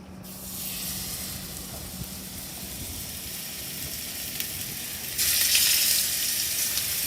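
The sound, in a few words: swordfish frying in a pan with extra virgin olive oil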